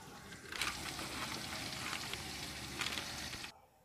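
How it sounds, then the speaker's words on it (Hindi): Onions frying in ghee for chana rice, a steady close sizzle with a couple of brief louder crackling surges as the pan is stirred, then a sudden stop. "इसके लिए मैंने जो है वो प्याज को घी में डाल दिया।"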